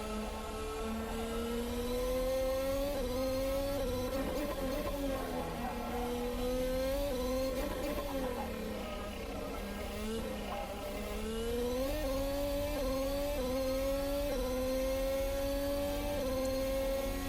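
A Formula Hybrid X race car engine in a racing sim game whines steadily at high revs, its pitch rising and dropping through repeated gear changes and throttle lifts, loud and continuous with no talk.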